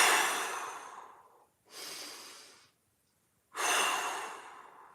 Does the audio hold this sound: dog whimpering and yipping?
no